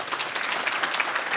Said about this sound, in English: let's have a round of applause for Jerry